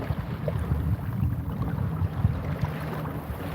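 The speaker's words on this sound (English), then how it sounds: "it's kind of windy" Steady low rumbling wind buffets the microphone outdoors near water, a continuous blustery roar with no voices.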